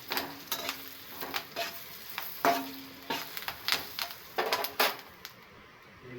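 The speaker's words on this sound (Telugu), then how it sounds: "తర్వాత ఆ పచ్చిమిర్చిని ఆ కడాయిలో వేయాలి. వేసి కొద్దిగా ఒక 1 మినిట్ కలపాలి." Green chillies fry in about three spoons of oil in a kadai, sizzling steadily while a spoon scrapes and stirs in repeated short strokes close by, with no one speaking.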